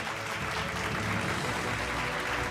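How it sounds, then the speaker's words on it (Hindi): Steady applause rolls through a room for a press event honouring an associate professor, a continuous wash of clapping heard at a distance, fairly faint, with a low hum beneath. "जोरदार तालियां हो जाएं सर के लिए।"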